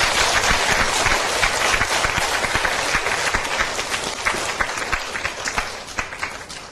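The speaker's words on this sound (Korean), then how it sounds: "이제 박수 한번 쳐줘야죠" Sustained, dense applause from a large crowd at a Christian church service, steady and loud throughout, gradually thinning slightly toward the end.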